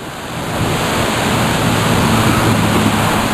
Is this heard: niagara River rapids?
yes